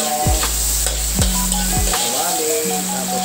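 Garlic and onion fry in a pan with a loud, steady sizzle throughout, broken by a few sharp scrapes and taps of a utensil stirring, no talk.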